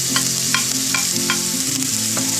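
Ginger and garlic sizzle steadily in hot oil in a wok, with a loud continuous frying hiss and a few sharper crackles from stirring, up close and with no voices.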